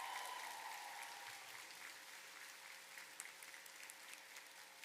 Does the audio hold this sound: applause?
yes